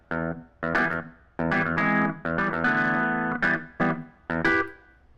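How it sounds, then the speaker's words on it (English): Keyboard part for a funk track, played through distortion in short bursts of bright, buzzy chords and notes, loud and close with sharp stops between phrases. "I don't like the distortion on that."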